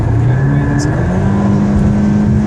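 A Scion FR-S sports car's engine drones at steady high revs from inside the cabin during a test drive, a sustained, even tone with no pauses.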